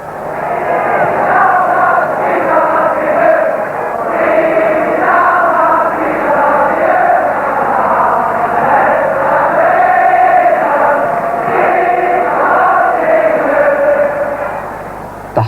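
A 126,000-strong football crowd at a Celtic match roars and sings continuously, a dense wall of massed voices with swelling chants that stays loud throughout.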